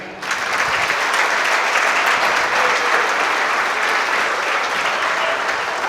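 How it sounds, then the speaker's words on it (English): A crowd at a fundraiser for the Boys & Girls Club of Livingston County breaks into sustained applause, dense close clapping that starts abruptly and holds steady to the end. "Let's give Lexi another hand."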